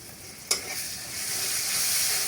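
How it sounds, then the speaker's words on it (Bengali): Ginger and garlic dropped into noodles in a hot pan: a sharp splash of sizzle at the start, then a continuous frying hiss that builds and holds to the end. "নুডলসের ভিতরে আদা রসুন দিতে আসছি, দেখছো?"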